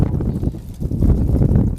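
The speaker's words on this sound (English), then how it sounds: "I apologize if it's really windy out here." Wind buffeting a microphone outdoors during a tiny house wiring job, a steady low rumbling roar that fills the whole short stretch, loud and close, with no talking.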